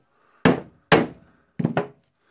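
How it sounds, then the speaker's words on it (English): A metal cylinder is hammered into the tool holder of a Makita HR2811FT rotary hammer drill during repair, three sharp hard strikes followed by a quick double tap, loud and close with silence between blows. "Now we have the cylinder for that purpose, that I can hammer."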